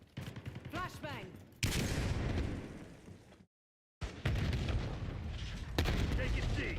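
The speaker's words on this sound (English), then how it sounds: "Flashbang." Black Ops 6 combat: a sharp flashbang grenade blast cuts in with a loud burst, followed by rapid gunfire and explosions, a brief silent gap, then more heavy shooting with chattering bursts and distant booms.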